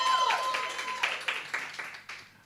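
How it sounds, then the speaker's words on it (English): An audience at a credit workshop claps for two honorees, with a full burst of applause that thins out and fades over a couple of seconds. "So another round of applause, ladies and gentlemen, for these two wonderful persons."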